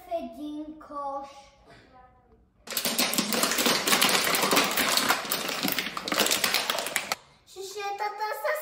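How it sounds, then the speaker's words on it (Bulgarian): Plastic bottles being crushed for recycling, a loud, dense crackling and crunching that runs for several seconds between stretches of someone talking. "Шишетата са смачкани."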